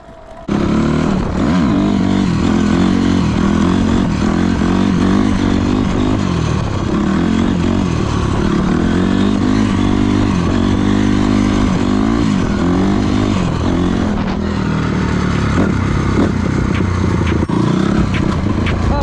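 Honda CRF 250 R dirt bike pulling a wheelie, its engine loud and close throughout, revving up and down in repeated surges with a rattly, buzzing tone.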